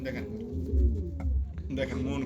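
Fancy pigeons cooing in low, rolling murmurs, close by and fairly loud, heard in short bursts alongside a man's nearby speech.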